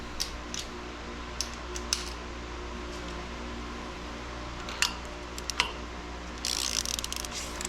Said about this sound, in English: take your ratchet, start compressing them